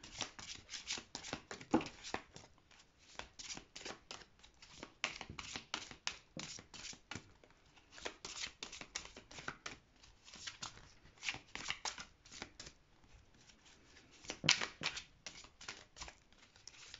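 Oracle cards being shuffled by hand, a steady run of soft riffling and slapping card sounds in repeated bursts, fairly quiet and close, with no talking.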